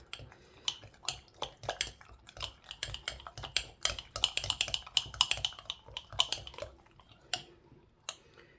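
A dough hook stirs and scrapes through sourdough starter in a container, making a rapid, irregular run of close, clicky knocks and scrapes that thin out near the end.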